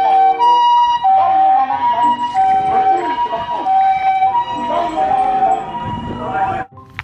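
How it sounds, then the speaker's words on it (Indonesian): Toy ambulance with an electronic siren: a loud, steady two-tone wail that alternates throughout and cuts off near the end, with mechanical clatter from nearby toys. "Mobil ambulan, teman-teman."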